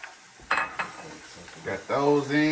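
Red peppers dropped into a hot pan hiss and sizzle in short bursts, with light clatter of stirring and a utensil against the pan, close and fairly loud.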